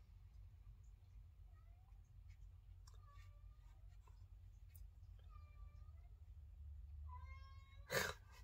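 A cat meows several times, faint and intermittent over a low steady hum, with one louder, sharper cry near the end; no speech.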